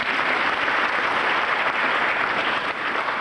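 Short burst of audience applause at a 1994 Wielka Orkiestra Świątecznej Pomocy charity event, a dense, steady wash of many hands clapping at moderate distance, sustained evenly throughout without speech.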